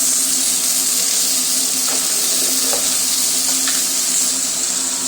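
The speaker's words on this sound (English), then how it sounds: "Rinse that pot out." Water runs from a kitchen tap while a pot is rinsed out in the sink, a steady broad hiss with a few faint clinks of metal, no talking.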